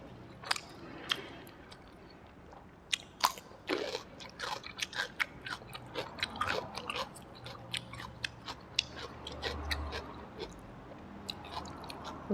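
Close-up eating of catfish with a chili dipping sauce, with repeated crisp bites, crunches and wet chewing in an irregular rhythm, fairly quiet and with no talking.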